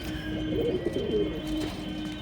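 Soft, repeated cooing of Giribaz and Madrasi pigeons, several low throaty coos rolling one after another over a steady background hum.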